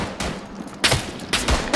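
Gunfire in the World War I shooter Verdun: loud, close rifle and machine-gun shots in several sharp bursts across a couple of seconds, over a dense battle din, with no speech.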